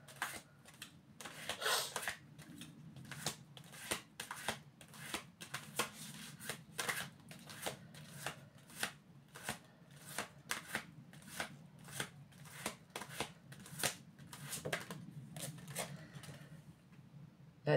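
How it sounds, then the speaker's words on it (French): Tarot cards riffle and flick down one after another in a steady run of crisp, close slaps and shuffles, the rhythm holding for about eighteen seconds with no talk. "cartes retournées, s'il vous plaît"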